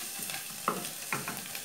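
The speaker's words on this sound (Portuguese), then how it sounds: "A cebola já tá dourando." Onion browns in margarine in a pan, a soft, low sizzle with two brief sharp scrapes from stirring, quiet and close, with no voices.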